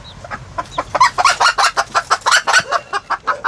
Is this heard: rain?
no